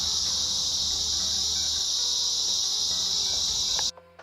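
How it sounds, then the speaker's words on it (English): Summer cicadas drone in a continuous, high, shrill buzz from the bush around an Australian koala sanctuary, steady and loud until it cuts off abruptly near the end. "the cicadas are the source of all background sounds all summer long"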